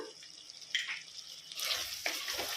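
Mushroom and potato curry seasoned with salt and chili powder is stirred in a pan, giving a soft continuous scrape and gentle sizzle that grows louder and denser in the second half, with no talk.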